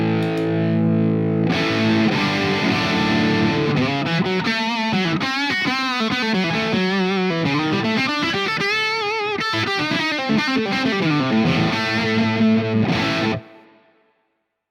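Guitar through a Laney LOUD pedal amp in dark mode: an overdriven chord followed by a long, bending, vibrato-laden lead line, loud and sustained, ending abruptly into silence.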